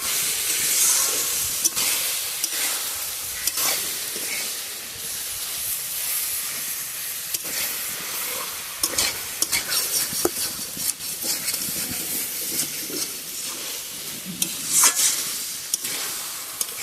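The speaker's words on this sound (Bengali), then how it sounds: "এরকম ডালটা দিয়ে এবার নাড়াচাড়া করবো।" Soaked lentils for dal are stirred in a cooking pot with no added water, producing a continuous hissing sizzle with scattered scrapes and clicks of the spoon throughout.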